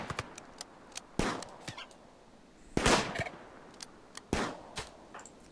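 Sharp, isolated gunshots from a Rimworld colony firing at a tortoise, several brief cracks at irregular intervals with a couple of louder, broader bursts, over a low background hum.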